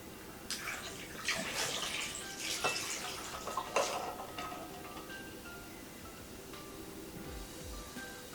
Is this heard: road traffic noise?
no